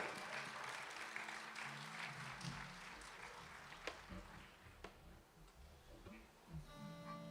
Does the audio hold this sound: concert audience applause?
yes